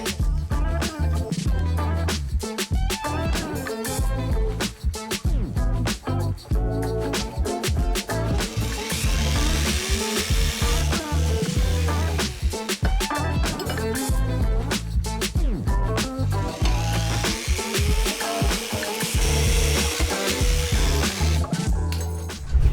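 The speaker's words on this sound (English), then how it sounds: "we'll start by cutting the squared tubes with the metal bandsaw" A metal bandsaw cuts through squared metal tubes, producing a continuous loud, harsh grinding whine with fluctuating pitch and brief interruptions, close and dominant throughout.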